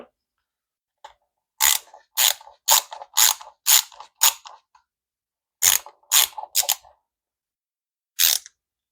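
A screwdriver turns the screw that holds the carburetor bowl on a snowblower, giving a run of crisp ratcheting clicks in short bursts with brief pauses. The sound is close and dry, with no talk over it.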